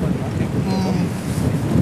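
Strong, constant beach wind roars and buffets the microphone without a break, with a faint hiss of surf beneath it.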